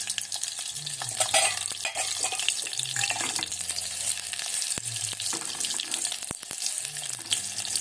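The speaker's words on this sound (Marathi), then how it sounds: "त्यासाठी लागणारा कांदा परतून घ्यायचा आपल्याला तेल चांगलं गरम झालं" Long-sliced onion sautés in well-heated oil for a village-style chicken curry, giving a continuous close sizzle with the scrape and clatter of a spoon stirring through the pan.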